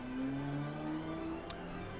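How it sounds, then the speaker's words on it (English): Motorcycle engine in the Cities: Skylines city-building game, a steady droning hum with a slowly shifting pitch, moderately loud and continuous with a brief click near the end. "You're being very noisy, motorcycle."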